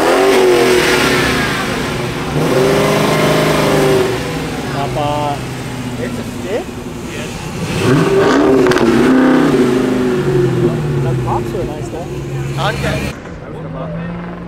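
A Dodge Hellcat at a car meet revs loudly in several rising bursts, close by, with people talking around it and the engine dropping back between pulls before cutting off near the end.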